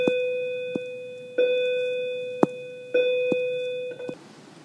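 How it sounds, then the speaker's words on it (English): A school bell rings in a classroom with a sustained electric tone that repeats in three long stretches, broken by sharp ticking clicks and ending abruptly. "sorry about the bell"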